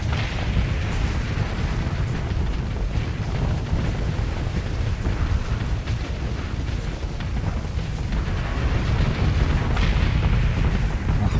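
Continuous heavy explosions and booming blasts rage through a space battle in the video game Starsector, a dense, loud, unbroken barrage with no talking.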